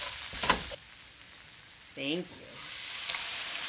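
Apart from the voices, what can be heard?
stirring tomatoes frying in a pan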